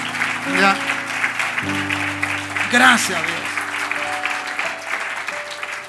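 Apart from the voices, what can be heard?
congregation applause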